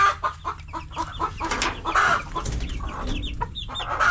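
A hen cackles and clucks loudly and close by in a farmyard, in a rapid, repeated series of sharp calls that rises into excited squawks.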